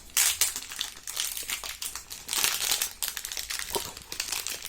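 Crinkly plastic packaging of a Japanese or American snack being pulled open close up: continuous loud crackling and crumpling in uneven bursts, with no talking.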